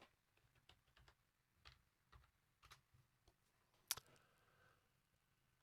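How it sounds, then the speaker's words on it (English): A command is typed on a computer keyboard during a Slackware install, a few soft, sparse key taps in a quiet room, followed by a sharper click and a brief louder hit at the end. "I just type setup now."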